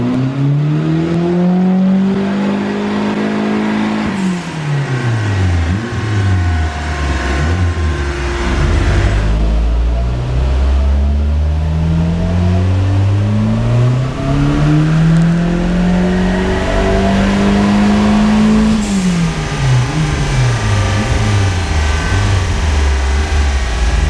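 An RS Turbo car strapped to a dyno revs at full power, its engine climbing in repeated long sweeps to a loud strained roar, dropping back through gear changes and rising again, with no talking over it.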